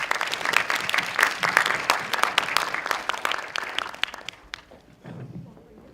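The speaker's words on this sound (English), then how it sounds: "Let's welcome Ms. No on the stage with a round of applause." A university orientation audience gives a round of applause welcoming a speaker to the stage, dense clapping for about four seconds that thins out and fades, with some crowd murmur at the end.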